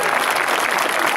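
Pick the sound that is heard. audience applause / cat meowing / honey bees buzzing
audience applause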